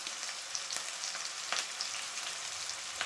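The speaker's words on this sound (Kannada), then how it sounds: "ಒಂದು ಎಳೆ ಕರಿಬೇವನ್ನ ಹಾಕ್ತೀನಿ" A sprig of curry leaves sizzling in hot oil, a soft steady crackle with several sharp pops spitting up through it, close but fairly quiet, with no voices.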